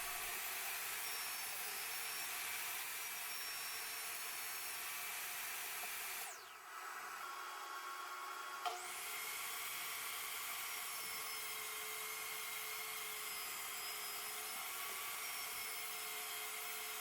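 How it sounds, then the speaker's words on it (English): A saw cuts through an MDF front panel for a guitar speaker cabinet, a steady loud whine that briefly drops out for about two seconds before resuming. "I'm cutting MDF here as well, you'll notice"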